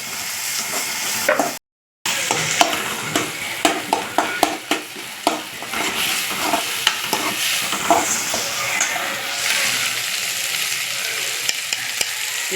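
Tomatoes and onions sauté in a pan, a loud close sizzle punctuated by repeated metallic spoon scrapes and knocks as they are stirred, with a brief dropout early on and no speech.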